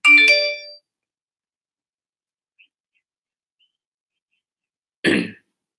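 A phone ringtone sounds for an incoming call, a short bright tonal melody near the start, then silence, then a brief noisy burst like a cough or throat clearing.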